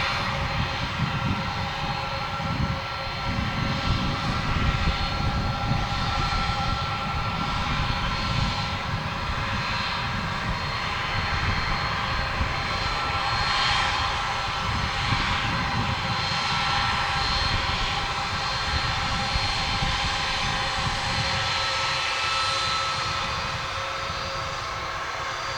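Aircraft engines roar steadily near the UPS terminal at Dallas/Fort Worth Airport after dark, a loud continuous drone with a broad rumble that swells and eases slightly throughout, no voices.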